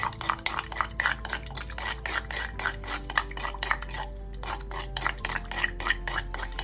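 Homemade aloe vera body lotion mixture being stirred in a bowl, a steady run of soft scraping and clinking strokes with a faint wet, sticky quality, close and continuous with no talking.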